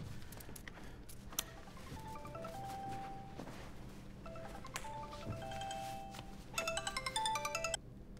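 A mobile phone ringtone plays a melodic tone pattern that repeats several times over a quiet room background, growing louder and busier near the end.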